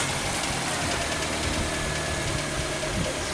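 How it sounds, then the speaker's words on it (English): Vehicle engine idling after start in a workshop during suspension noise testing, a steady mid-pitched running drone with faint knocking texture, close and constant with no talking. "So let's start the vehicle."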